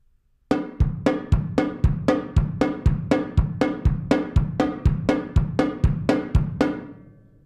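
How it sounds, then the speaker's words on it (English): Drum set hits in a slow, even sequence of about fourteen strokes, alternating hands and feet across the kit, close and punchy with bass drum thumps, ending in a short ring-out. "So I'm using all four of my limbs alternating to create a very fast 30-second note."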